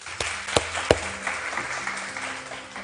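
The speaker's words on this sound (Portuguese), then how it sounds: "Uma salva de palmas para ele." A church audience gives brief applause for a volunteer, with a few sharp, distinct claps standing out over softer scattered clapping and a low murmur, fairly close and short-lived.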